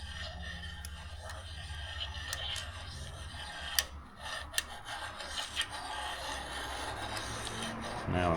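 A hand file scraping rust off a metal edge during a 3.4L V6 swap on a 4Runner, soft rasping strokes with a few sharp ticks, close and moderately quiet in a workshop.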